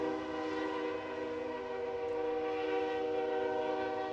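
A train passes behind a soccer stadium during a match. A sustained, steady horn tone is heard at moderate distance, with no talk over it.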